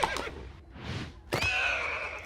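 A horse whinnies loudly, a shrill, wavering neigh after a couple of sharp thumps and a brief rumble, with no talking.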